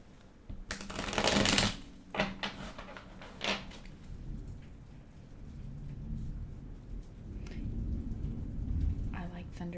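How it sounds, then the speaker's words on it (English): A deck of tarot cards is shuffled in a few loud, rustling bursts, the longest near the start, over a low rumbling background like distant thunder. "I'm going to shuffle"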